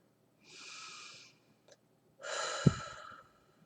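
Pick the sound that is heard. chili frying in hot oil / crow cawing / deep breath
deep breath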